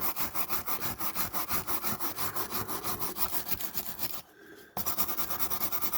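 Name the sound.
sanding a diecast model car body to smooth it for paint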